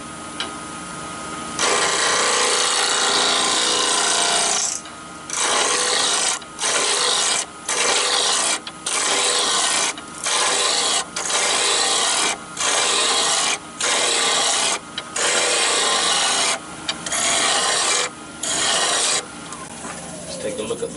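Woodturning lathe spinning a small yew hollow form at 1700 RPM, with a loud rasping cut that comes in repeated bursts separated by short pauses as the tool is pressed and lifted.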